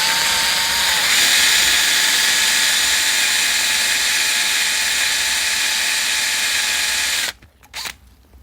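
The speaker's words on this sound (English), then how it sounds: "we're just gonna use the drill quite slowly, quite a lot of pressure" A power drill bores slowly under heavy pressure, a loud steady whine and grinding drone lasting about seven seconds before stopping abruptly, followed by a short final burst.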